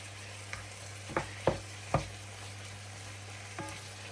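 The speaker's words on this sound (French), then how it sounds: "Et on va bien faire revenir le tout." Tomato paste, harissa and spices fry in a pan as a spoon stirs them. A soft sizzle runs underneath a handful of sharp scrapes and knocks at irregular intervals, with a low steady hum behind.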